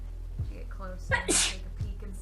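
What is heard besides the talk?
sneeze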